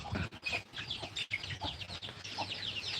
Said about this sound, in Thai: เห็นแต่ไก่ นะครับเลี้ยงไก่ตีครับ